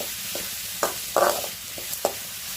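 Onions sizzle steadily in a hot pan with a little salt, with a few scraping knocks as they are stirred.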